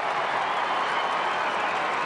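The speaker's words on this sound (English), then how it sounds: "Crowd in full voice again." A dense, steady roar of a large football crowd at an AFL match between Adelaide and Richmond, continuous and loud throughout, with no distinct individual voices.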